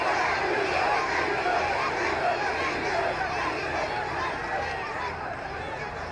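A large rally crowd in Rawalpindi chants slogans for Sheikh Rasheed's speech, a dense, continuous roar of many voices that stays loud and steady throughout.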